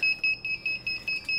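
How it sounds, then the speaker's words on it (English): Repeated electronic beeping from a DJI Digital FPV drone controller, a steady loud double-tone beep pulsing about every 0.2 seconds, close by with no talk. "this beeping's driving me nuts"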